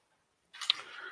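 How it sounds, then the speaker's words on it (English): A bite into a crisp fried tortilla tostada, a single close crunch after a brief silence, followed by soft chewing crackles that fade out. "Hear that crunchy, crunchy, crunchy."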